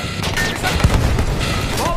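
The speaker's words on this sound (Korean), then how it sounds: "안돼 수류탄 너무 많아" Grenade blasts and gunfire from the World War I shooter Battlefield 1, a dense, loud barrage with a low thump near the middle, running under excited talk.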